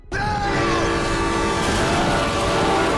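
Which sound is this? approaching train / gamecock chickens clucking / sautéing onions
approaching train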